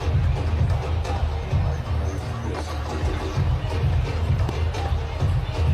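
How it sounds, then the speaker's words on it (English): Cricket crowd at the Hong Kong International Sixes during an India versus Nepal match, a steady distant murmur and babble of spectators with a broadcast commentator's voice over it. "Crowd are enjoying it."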